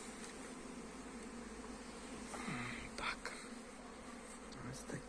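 Honeybees on a winter cleansing flight at an apiary after snowfall, a soft steady buzzing hum with a few insects passing closer, while a person talks quietly over it.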